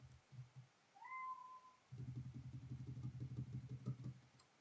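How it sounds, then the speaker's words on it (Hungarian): A cat gives one short rising meow near the start, mid-loud, before a low engine idles steadily underneath in a rural setting. "Macska ma nyávog,"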